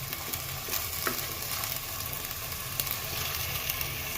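Gravy with peas sizzles and fries steadily in a pan while being stirred continuously, a dense crackling hiss with faint scraping, close and alone.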